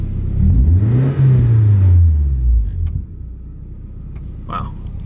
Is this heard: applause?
no